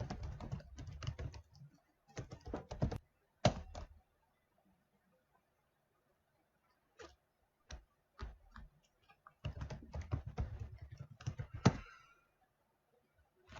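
Credentials typed on a computer keyboard: close, crisp key clicks in quick bursts separated by pauses and a few lone taps, with no talk.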